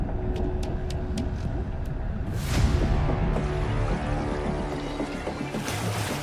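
A river's falling water roars as a dense, continuous rush that swells louder midway and stays broad and steady, with no voices.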